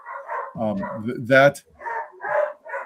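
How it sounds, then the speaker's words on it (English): A dog yips and whines in the background while a person keeps talking, the barks short and fairly close, overlapping the speech. "I don't know if you can hear my dogs in the background,"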